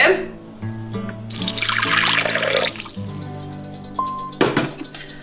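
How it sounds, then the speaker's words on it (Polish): Half a litre of water poured into the container of a Monsieur Cuisine Smart kitchen machine, a loud rushing splash for about a second and a half that settles into a trickle over soft background music. "Na początek do pojemnika wlewam pół litra wody."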